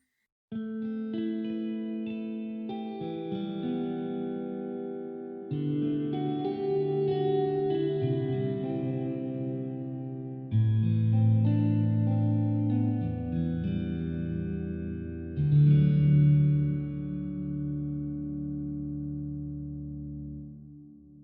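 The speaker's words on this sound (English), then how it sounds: "the church reverb. It's very long, very wide." Sustained piano chords ring out in a very long, wide church reverb, each new chord blooming over the fading tail of the last, slow and ethereal with no voices.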